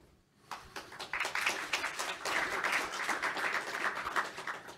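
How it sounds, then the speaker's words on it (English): Audience applause after a talk at the Netdev networking conference: steady, dense clapping that breaks out after a quiet half-second and holds at an even level through the rest of the clip. "That was pre-applause for the answer to the questions you're going to get now."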